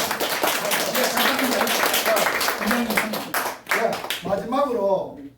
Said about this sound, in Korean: 우리 연명하신 목사님께 박수 한번 치주소